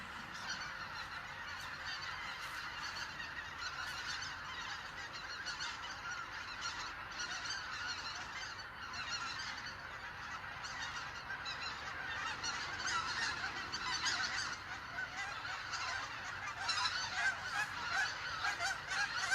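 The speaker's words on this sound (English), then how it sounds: "I hope you can hear the cacophony of geese in the background." A noisy flock of geese honking continuously from a distance, overlapping calls forming a steady cacophony that grows slightly louder toward the end.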